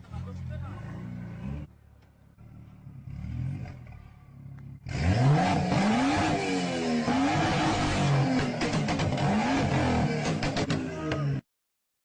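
A car engine revs hard through its exhaust in a loud, sustained roar with rising and falling pitch, following a stretch of agitated voices and lower engine rumble, then cutting off abruptly.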